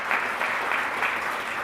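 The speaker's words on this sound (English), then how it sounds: "I think that's something we should all applaud." An audience at a State of the Cities civic address applauds briefly, a steady wash of clapping at moderate distance.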